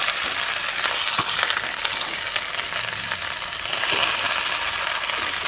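Chopped okra added to browned onions in a pan frying with a steady bright sizzle, with occasional scraping stirs, close and fairly quiet, no talking.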